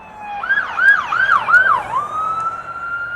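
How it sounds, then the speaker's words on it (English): A fire truck siren wails loudly nearby, sweeping up and down in quick yelping cycles before settling into a steady tone. "It's a fire truck."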